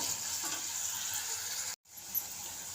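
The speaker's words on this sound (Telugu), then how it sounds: "అంతవరకు నేనైతే ఈ ఉల్లిపాయలు అయితే ఫ్రై చేస్తానండి" Onions frying until golden brown for a meatless tamarind fish-style curry, a steady close sizzle with a faint stir, a brief dropout near the middle, no voices.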